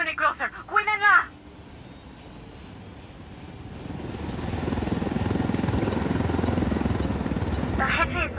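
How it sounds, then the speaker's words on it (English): A helicopter in the video game Ghost Recon Wildlands rises to a steady, loud rotor drone that fills most of the clip, after brief speech at the start and end. "Let's take your helicopter."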